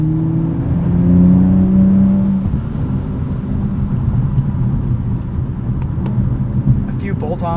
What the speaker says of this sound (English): I like the little burble from the exhaust between shifts.